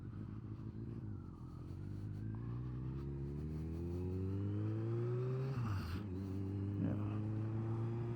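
A Kawasaki ZRX motorcycle engine heard while riding, revs climbing steadily in a droning tone, then a brief dip at a gear shift before pulling again, loud and close under wind noise.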